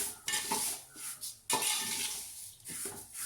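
Ragi is dry-roasted in a hot pan, with a spoon scraping and stirring in uneven, close bursts of clatter and rustle, no voices.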